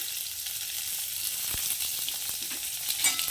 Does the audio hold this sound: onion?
yes